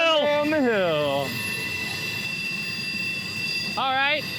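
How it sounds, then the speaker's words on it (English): Freight trains on Horseshoe Curve: wheels squeal loudly in sliding high tones at the start and again near the end, with a steady rumble of passing cars in between, and no talking. "We're just surrounded by freight train right now."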